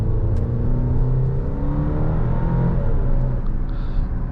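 A 2024 Alfa Romeo Stelvio Veloce's 2-liter turbocharged four-cylinder revs and pulls under load, a loud, steady engine drone whose pitch rises and sweeps through the run from a close-up position.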